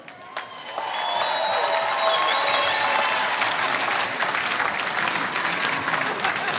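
Convention audience clapping steadily after a political speech, a dense, sustained wash of applause that swells within the first second and holds loud throughout, with a few voices and cheers mixed into the crowd noise.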